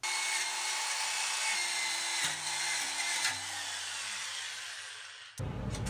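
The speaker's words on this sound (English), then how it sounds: "you're going to want to take all the old gasket material off of here. A wire wheel or a razor blade will work fine." A wire wheel grinds old gasket material off a Nissan 350Z exhaust flange, a steady loud whirring scrape with pitch dips as it bites into the surface, cutting off abruptly near the end.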